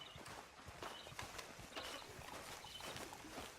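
Horse hooves clip-clop at a steady walking rhythm in Red Dead Redemption 2, faint and continuous with no talking.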